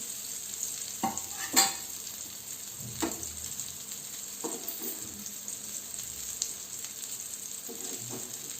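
Rajma tikki frying in a pan and being turned, a steady close-up sizzle with a few scraping and tapping touches from the spatula.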